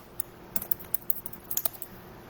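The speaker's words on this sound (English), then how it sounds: "So I just typed in my good morning." Light, quick keystrokes clicking on a computer keyboard as a short greeting is typed, an uneven patter of close, soft taps with no voices.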